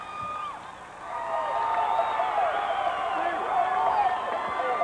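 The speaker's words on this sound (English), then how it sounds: "some of the Ogallala Indian crowd is there really getting psyched" Ogallala Indians fans at the 1992 Nebraska Class B boys state basketball championship against Lincoln Pius X, a steady arena crowd roar with whoops and cheers that swells after the first second and stays loud throughout.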